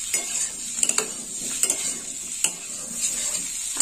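Elephant foot yam stir-fried in a pan over low heat, giving a steady sizzle broken by several sharp spatula scrapes and clinks against the metal, close and with no one talking.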